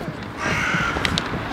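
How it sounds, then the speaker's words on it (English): A crow caws a few times, harsh and fairly close, over a steady background murmur of an outdoor city scene in Berlin at Christmastime. "That's an ominous sounding crow."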